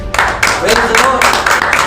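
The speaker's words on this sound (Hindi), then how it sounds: "ताली बजाते।" A church congregation claps their hands during a Hindi worship sermon, producing a steady, dense burst of clapping that swells in repeated waves over a continuous crowd wash.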